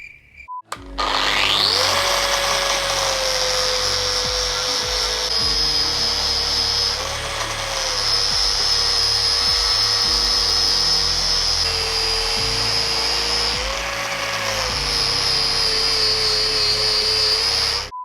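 A power tool grinds steadily on a metal washer for an Audi quattro Group S RS001 front suspension build, a loud, close, high-pitched whine that dips and recovers as the tool bites, running continuously with no talk.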